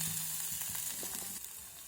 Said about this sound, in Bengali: জিরাটাকে ভেজে নেব জিরাটা ভাজা হয়ে গেছে